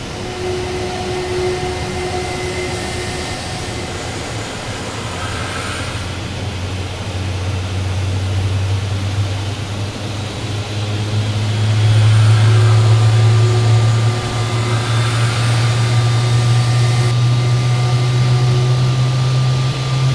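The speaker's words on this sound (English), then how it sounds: "So now the engine number 2 is going to start." An Airbus A320's number two engine spools up in the Prepar3D flight simulator, a steady whine with a low hum that rises and grows louder through the start sequence, with no talking over it.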